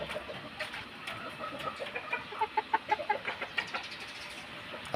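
Young Talisay-breed backyard chickens, about three months old, clucking in a lively outdoor yard, with a run of rhythmic calls rising midway through amid steady background ambience.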